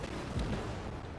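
A single deep boom of battleship main guns firing in World of Warships, with a low rumbling tail, heard at moderate loudness.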